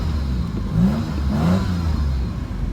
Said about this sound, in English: Looks like the factory exhaust. Might just be a slight leak.